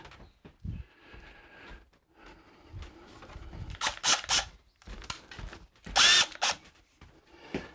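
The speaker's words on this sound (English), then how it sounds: "let's take a few screws out" Cordless drill backing screws out of camper kitchen cabinets during a remodel demolition, with several short whirring bursts of varying length between quieter handling clicks and pauses, up close.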